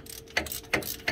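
A ratchet tightens bolts during vehicle assembly, with three evenly spaced clicking strokes close by and no talking.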